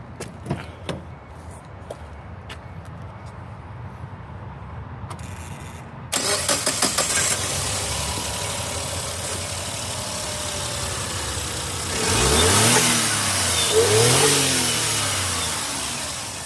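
A 1999 Suzuki Jimny engine cranks and catches after quiet handling noises, then settles into a steady idle before two rising revs swell and fall back, close and fairly loud.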